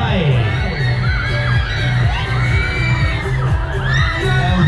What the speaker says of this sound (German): Komm Mädels, jetzt könnt ihr schreien